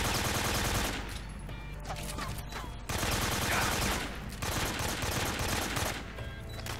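Sustained AK-47 fire from a video game boss fight, dense rapid bursts continuing almost without pause, loud and close, with brief dips between volleys.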